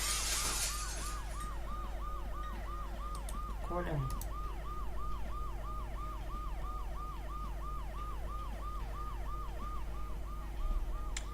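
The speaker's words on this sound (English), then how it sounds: "The noise the ambulance makes will cover the sound of the glass breaking." Ambulance siren from the video game Dead Synchronicity wails in a steady, repeating rising-and-falling cycle throughout, moderately distant over a constant low rumble, with a brief voice speaking near the start.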